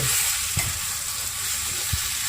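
Prawns sizzle steadily in a hot pan for a Tamil prawn curry, a continuous bright frying hiss broken by two soft scraping stirs of a spoon, close and alone with no voices.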